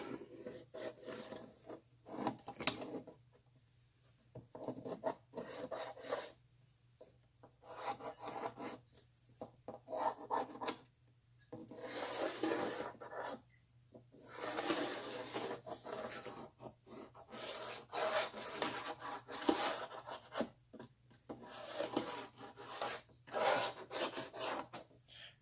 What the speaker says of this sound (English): I have a pencil, and I'm going to go ahead and trace out my track pattern